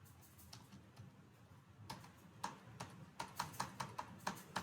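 Keys on a computer keyboard, the Enter key among them, are tapped again and again in quick, uneven clicks that become denser and a little louder toward the end, quiet and close, with no voices.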